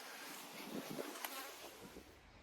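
Honeybees buzz in a dense, continuous hum around strong hive colonies in a bracken-covered apiary, a moderately faint swarm drone with individual bees briefly swelling closer.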